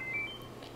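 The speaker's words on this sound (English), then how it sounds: "that's my phone going off" A mobile phone goes off with a short series of thin, high electronic beeps, brief and fairly soft over a quiet room background, with no talking.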